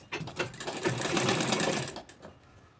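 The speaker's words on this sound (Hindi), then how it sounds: "हमें सिलाई चला देना है" A sewing machine runs steadily, stitching down a fabric strip on a square neckline, with a close, even mechanical whirr that builds for about two seconds and then winds down. No one speaks.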